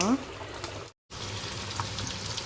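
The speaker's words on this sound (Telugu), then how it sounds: "ఇక్కడ చేప ముక్కలు అయితే ఫ్రై చేస్తున్నాను" Pieces of chanduva fish frying in a pan, giving a dense, even sizzle and bubbling that cuts out briefly, then continues steadily up close.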